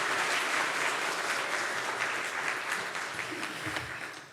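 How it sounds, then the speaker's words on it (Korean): Warm, continuous applause from a church congregation during a Korean ordination thanksgiving service, fairly soft, dense clapping that gradually eases off over a few seconds. "박수로 모시겠습니다."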